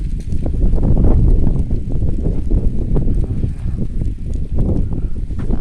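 Cool wind buffets a microphone in an open public park beside a lake and futsal court, a steady low rumbling gust that swells and eases without pause.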